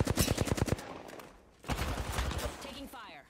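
Apex Legends gunfire comes as a rapid automatic burst, then a pause and a second stretch of shooting, loud and close, with game effects and voices mixed in.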